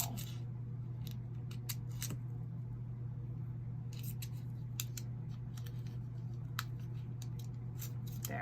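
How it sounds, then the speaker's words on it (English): Scissors snip a window into an altered playing card for a craft project, delivering a run of close, crisp, irregular cuts over a low steady hum with no talking. "the one thing you want to remember when you're cutting stuff for your window is don't cut it"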